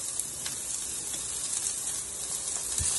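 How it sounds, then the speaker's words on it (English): Onion, bay leaf and garlic sizzle steadily in hot olive oil in a pan, a close, even crackling hiss with a few light pops. "We'll let that saute a little bit until it gets nice and soft."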